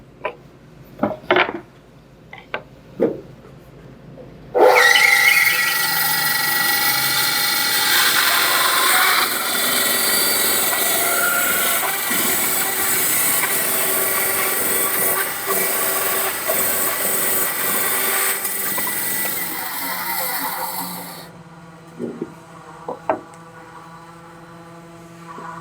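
A power saw cutting a wood veneer sheet for a skateboard, a loud, continuous whining cut lasting about sixteen seconds, framed by a few knocks and clatters of handling before and after.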